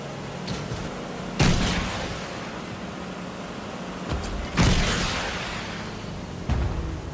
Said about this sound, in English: all you have to do is just missile them twice